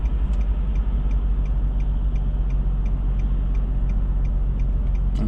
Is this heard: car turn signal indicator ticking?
yes